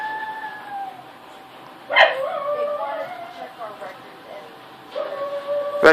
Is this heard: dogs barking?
yes